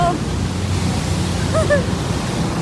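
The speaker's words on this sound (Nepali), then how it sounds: "अब चाहिँ पानी पऱ्यो" Rain falls outdoors with a dense, continuous hiss that stays steady throughout, and a few brief faint chirps rise above it midway.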